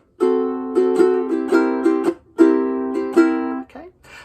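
A ukulele strums with chucked accents. Ringing chords are cut by brief muted chops, giving a syncopated, bouncing rhythm. It is close, clear and played alone.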